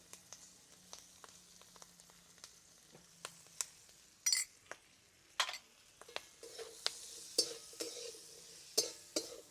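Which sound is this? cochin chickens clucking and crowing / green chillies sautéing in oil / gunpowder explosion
green chillies sautéing in oil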